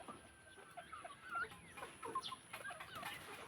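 Backyard chickens, among them hens, cluck softly and intermittently, with scattered short calls near and far over a quiet outdoor hiss.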